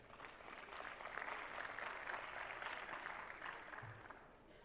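Soft, distant applause rises from the audience at a women-in-STEM forum, welcoming a Nobel laureate in medicine, then swells in the middle and tapers off gently toward the end.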